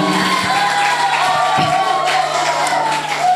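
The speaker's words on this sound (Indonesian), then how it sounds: "Tepuk tangan untuk PGMI Staifa Pamekasan." At a student association inauguration for PGMI Staifa Pamekasan, a large crowd cheers and claps, with loud whoops and shouts rising over a continuous roar of voices.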